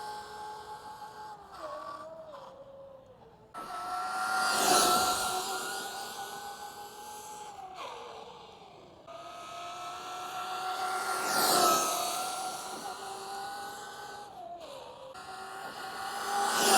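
Traxxas Maxx V2 RC car motor whining at full throttle during a speed run, rising and falling electric pitch sweeps in repeated surges as the car passes, moderately loud with no talk.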